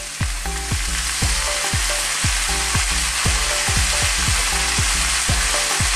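Vegetables stir-fry in a wok with fish sauce, making a loud, close, constant sizzle. Rhythmic metallic knocks and scrapes of tossing repeat about twice a second throughout.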